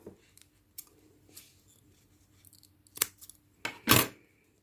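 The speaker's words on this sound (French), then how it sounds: "je vais couper ces deux morceaux de fil" Scissors snip through two strands of yarn while a crocheted amigurumi Santa is being made, giving a few faint clicks followed by two crisp, close cuts, the last one loudest, in an otherwise quiet room.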